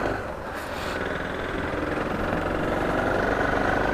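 A Suzuki DR 650 motorcycle engine runs at a steady idle after carburettor repairs, a continuous close mechanical rumble with a fluttering pulse and no speech over it.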